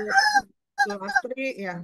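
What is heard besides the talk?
chicken clucking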